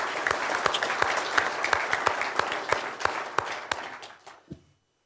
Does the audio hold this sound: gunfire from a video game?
no